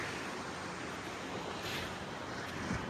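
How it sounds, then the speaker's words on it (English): Ocean surf washes steadily onto a sandy beach, a continuous broad rushing roar with some wind noise on the microphone and no voices. "The sand. The ocean."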